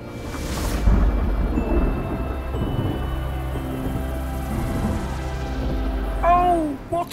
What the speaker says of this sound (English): What a storm!